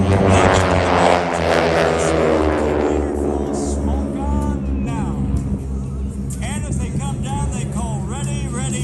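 Several propeller aircraft flying in formation pull up together at the Dayton air show, their loud engine drone sweeping past and shifting in pitch, with crowd babble and a commentator's voice audible underneath.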